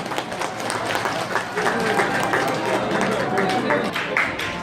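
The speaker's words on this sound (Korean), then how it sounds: "박수 계속해서 뜨겁게 부탁드리겠습니다." Wedding guests applauding at a ceremony, a dense continuous wash of clapping mixed with crowd chatter and voices throughout.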